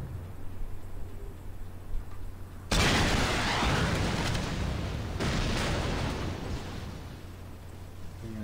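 Bomb explosions in the video game Saints Row: a low rumble, then a sudden loud blast followed by a second burst, each roaring and slowly fading.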